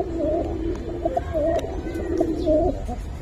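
Kaldam pigeons coo in a repeated series of soft, rolling calls, close and fairly loud over a low background rumble, with several phrases overlapping across the clip.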